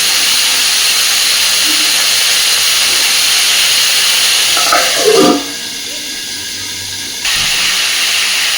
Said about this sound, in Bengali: এবার আমি কপিটাকে ঢেকে দেবো তাতে করে ভাজাটাও ভালো হবে